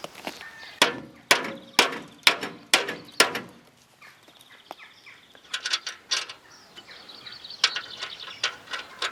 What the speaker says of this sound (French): Petit coup de marteau là pour aider.